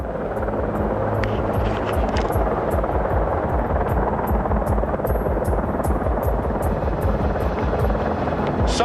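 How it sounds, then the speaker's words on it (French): A military helicopter flies nearby, its rotor throbbing in a steady, continuous low pulse with a faint hum, loud and unbroken throughout. "Un autre hélicoptère militaire est apparu"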